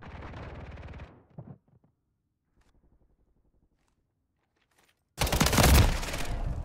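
Rapid automatic gunfire in a video game free-for-all match, with a sustained burst at the start, a short volley after it, a near-silent pause, then another loud, dense burst of rapid shots.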